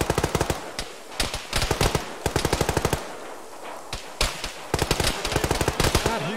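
Rapid machine gun bursts from an Arma 3 battle, loud and close, firing in repeated clusters of quick shots with brief gaps between volleys, dense and sustained.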